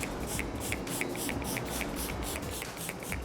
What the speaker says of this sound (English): I'm going to spray a little more